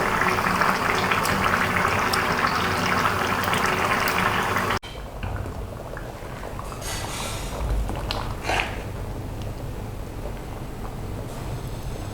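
Fish curry gravy bubbles in a pan, a dense, steady simmering hiss that cuts off abruptly and gives way to quieter bubbling with a few scattered clinks and splashes.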